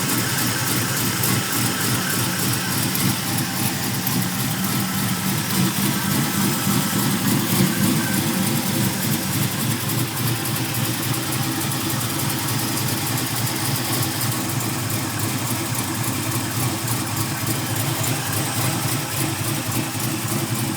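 A 1985 Chevy S10 truck with a small-block 350 V8 idling, a loud, close, steady rumble with an even, throbbing pulse that holds unchanged throughout, with no voices.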